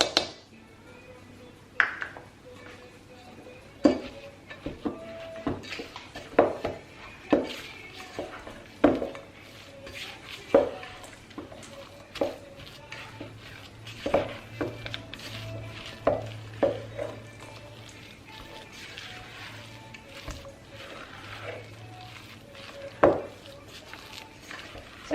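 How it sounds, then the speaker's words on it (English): A spoon scrapes and clinks against a bowl while grated carrots and walnuts are stirred into carrot cake batter, giving repeated knocks and scrapes at an uneven pace, close up with a faint low hum behind. "we're going to stir in the carrots."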